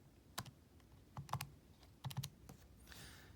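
Keys tapped on a computer keyboard in short irregular clusters, close and clear with no voices, ending in a soft rustle.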